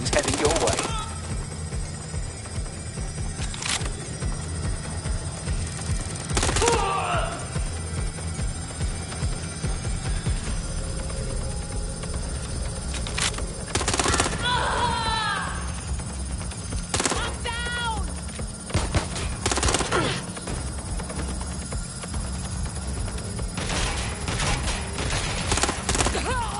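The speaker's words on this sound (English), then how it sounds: "Gunfire!" Distant gunfire in Watch Dogs: Legion pops sporadically over a steady low rumble and hum, with a few louder bursts and some faint voices in the mix.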